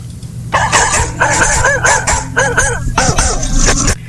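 Several dogs bark and yip loudly and close by in rapid, overlapping bursts that run almost without a break for about three and a half seconds.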